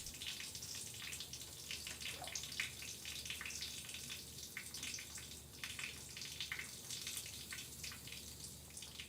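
Water runs steadily from a tap into a sink, a soft continuous hiss with faint splashing, close and unbroken.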